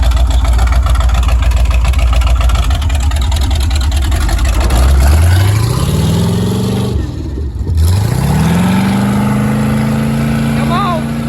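A 1977 GMC Sierra truck engine runs loud and close, its tone rising and falling as it revs, dips briefly, then climbs again, with voices talking over it.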